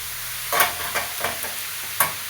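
Tomato and moth beans frying in a pan, stirred with a few distinct scraping strokes over a steady low sizzle, close and moderately loud with no talking.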